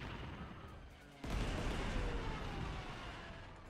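Artillery bombardment in the strategy game Panzer Corps 2 lands as a sudden booming impact, then a sustained rumbling roar of shelling that lingers, fairly close.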